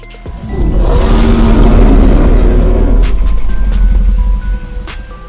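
A dinosaur call from a Roblox dinosaur game: a loud, sustained low rumbling roar that swells in quickly, holds steady for about four seconds, then drops away, with no voices.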